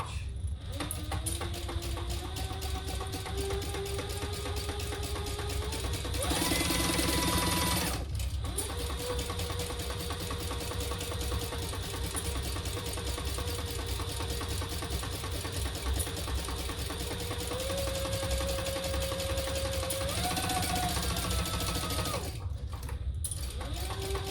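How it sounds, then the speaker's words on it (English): Sewing machine stitching a 1/8-inch basting seam around a Teresita train case, running steadily for long stretches with a few brief pauses and speed changes, close and loud. "let's just baste this all the way around"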